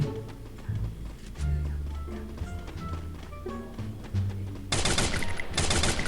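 Gunfire in the battle-royale game Free Fire arrives in rapid bursts of shots over background game sounds and music, with a dense, loud volley near the end.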